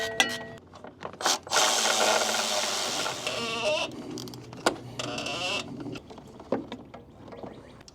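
Hand tools tighten the downpipe bolts on a rebuilt G80 BMW M3, with bursts of quick ratcheting clicks and metallic scraping between short pauses, close by in a cramped engine bay.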